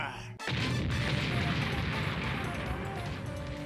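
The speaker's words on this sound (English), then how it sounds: "All board cannons, prepare to fire!" Ship cannons fire in the video game Megaman Legends, a sudden heavy boom followed by sustained rumbling, crashing bursts that stay loud and dense.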